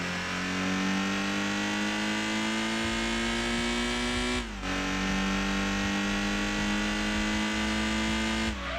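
A racing car engine in Gran Turismo 2 on PS1, a small midship car, screams at high revs, climbing steadily in pitch, dropping briefly at a gear shift, then climbing again, loud and continuous.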